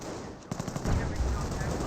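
Rapid machine-gun bursts and rifle fire hit Volksgrenadiers in the Company of Heroes game, a dense crackling volley that grows louder partway through and then keeps going.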